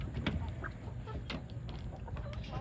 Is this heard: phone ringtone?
no